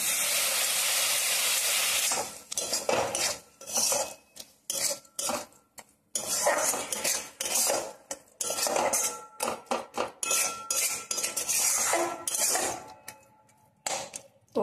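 Spice paste and Gobindobhog rice frying in a pan, with loud, irregular metallic clatter and scraping of a utensil against the pan in bursts over a hissing, sizzling background.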